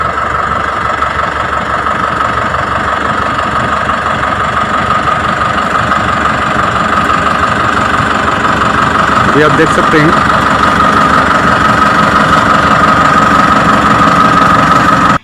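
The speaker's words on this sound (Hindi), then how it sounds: "अभी देखिए ट्रैक्टर रिवर्स पे आ रहा है तो पीटीओ भी रिवर्स पे घूम रहा है।" A loud, steady tractor engine rumbles and idles up close throughout, running in reverse with the ground PTO also turning in reverse, with a brief voice speaking over it.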